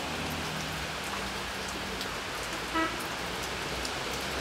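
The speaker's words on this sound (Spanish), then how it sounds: "Quería mostrarles la lluvia." Steady rain pours on surfaces with a constant hiss; a brief car horn toots faintly in the distance partway through.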